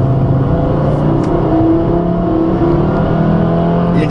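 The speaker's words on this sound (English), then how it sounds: "The engine's very smooth and quiet." Turbocharged engine of a VW Beetle convertible running steadily on the road, a smooth, quiet continuous hum with a little road and wind noise, no voices.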